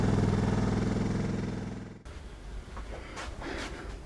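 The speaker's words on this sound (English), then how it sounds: "I've got the bike just outside warming up" A Suzuki DR650 motorcycle engine, long unused and freshly fuelled, idles outdoors with a loud steady drone that cuts off halfway, leaving faint clatter and background noise.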